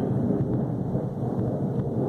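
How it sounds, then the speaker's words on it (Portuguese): Thunder during a light rain shower outside, a continuous heavy low rumble with a steady patter of rain, loud and unbroken for the whole stretch, with no voices. "Tá trovejando, eu tô aproveitando a chuvinha que tá caindo lá fora para gravar o vídeo"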